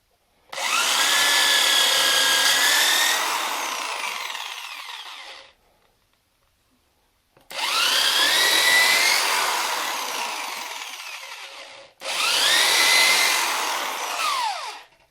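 A power drill whines loudly in three long bursts, its pitch shifting as it bites into wood, with short pauses between runs.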